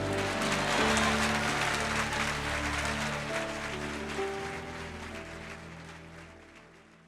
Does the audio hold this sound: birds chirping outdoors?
no